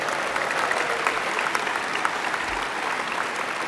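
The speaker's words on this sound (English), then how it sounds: "I think that deserved a round of applause" Conference audience at the Lib Dem Conference 2010 rally breaks into steady, dense applause, a close and loud wash of many hands clapping that holds evenly throughout.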